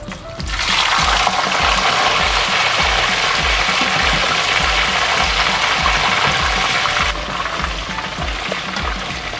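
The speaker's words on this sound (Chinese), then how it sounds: "现在我们开始第2次炸虾。" Shrimp balls deep fry in hot oil for a second time, giving a loud, continuous, dense sizzle and bubbling close up that runs throughout without talk.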